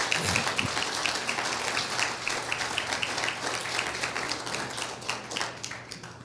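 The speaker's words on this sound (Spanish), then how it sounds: "denle un fuerte aplauso al Señor" A church congregation claps for God in a sustained round of applause, many hands beating together with a steady, lively texture over faint background hum.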